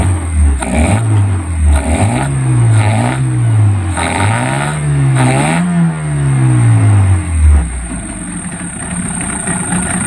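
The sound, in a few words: Yamaha 15 hp outboard motor starting and running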